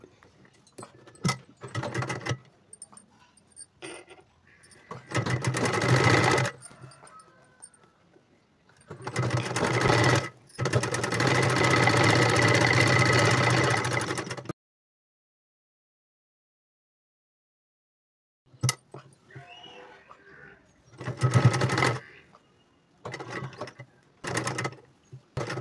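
A sewing machine stitches a folded sleeve onto the shoulder of a boat neck blouse in several separate runs, some short and some sustained, close and fairly loud, with a long silent pause midway and no talking.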